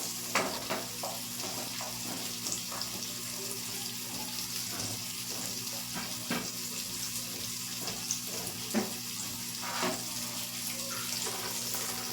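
Chopped onion sautéing in a pan on the stove, a steady faint sizzle with scattered clinks and scrapes of stirring, no voices.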